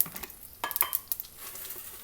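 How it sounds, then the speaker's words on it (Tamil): Mustard seeds, urad dal and dried chilies sputter in hot oil on low heat, a faint crackle with quick popping bursts and light stirring clicks, close and quiet with no talk. "அப்புறம் நம்ம ஆல் டைம் ஃபேவரேட் கருவேப்பிலை எல்லாத்தையுமே போட்டு தாளிச்சிக்கலாம்"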